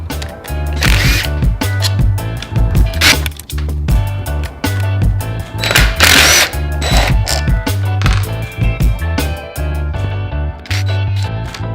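Power tool zapping bolts off the engine case of a locked-up Suzuki RM250 motorcycle motor, loud ratcheting bursts repeating over about twelve seconds, close up with no talk.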